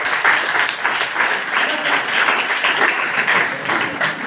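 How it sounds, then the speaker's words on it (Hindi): Students and staff at a government college prize-giving ceremony applaud an award winner, a full, steady burst of many hands clapping at close range with no speech over it. "जोरदार तालियों के साथ अभिनंदन करेंगे"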